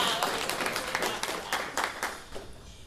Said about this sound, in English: yeah, you can clap for D&D.